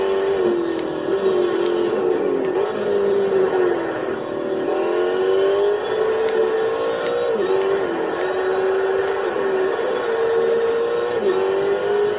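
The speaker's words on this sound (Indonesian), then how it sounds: "mobil kenceng seperti ini uh, ngoper giginya masih manual teman-teman" Fast car engine in a PS3 racing video game, revving steadily with shifting pitch from manual gear changes, loud and continuous with no talking.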